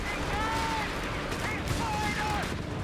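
Company of Heroes 3 battle audio with dense booming gunfire and artillery rumbling continuously, an anti-tank hit among the blasts, while a commentator talks over the din.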